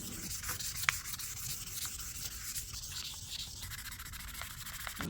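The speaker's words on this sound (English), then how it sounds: "We're going to be using wet and dry sandpaper because I think that method works the best." Wet and dry sandpaper rubs by hand over a homemade Master Sword replica in quick, even back-and-forth strokes. The gritty scraping is close and steady, with no voices.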